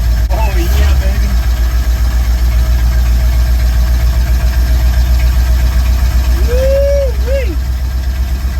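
A custom 1971 Ford van engine idles rough and loud close by, a heavy uneven rumble with knocking character, while brief voices and whoops break in near the start and end.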